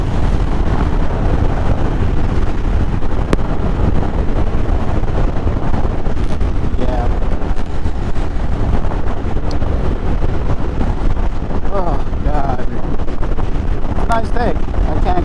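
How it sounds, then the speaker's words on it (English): Strong wind buffets the microphone throughout in a loud, constant roar, with faint voices occasionally breaking through. "It is windy though, so hopefully you guys can hear me."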